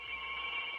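A telephone rings in an old radio drama, giving a steady, fairly faint electric bell tone that holds unbroken through the short moment.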